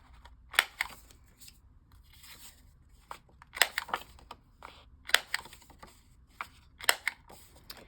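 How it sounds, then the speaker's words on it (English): Several crisp snips of scissors rounding off a paper corner, close and quiet, coming in short clusters with pauses between them. "use your scissors just to gently chop off the corner there and round it"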